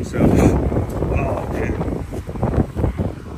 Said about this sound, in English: Wind is coming this way now.